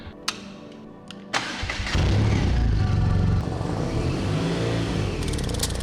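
Motorcycle engine starting up after a few clicks and thuds, catching and settling into a loud, close idle with a steady rumble.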